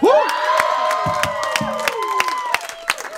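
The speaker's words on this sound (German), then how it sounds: "das ist dein Applaus, würde ich sagen" Small crowd at a garden house concert applauding and cheering, with shouts and whoops over scattered sharp claps that thin out toward the end, close and loud.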